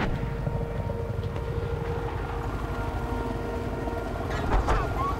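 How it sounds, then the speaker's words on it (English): A helicopter's rotor drones steadily with a low, rapid chopping pulse, loud and continuous throughout, with no voices, in the video game Battlefield 4. "Do you see a helicopter?"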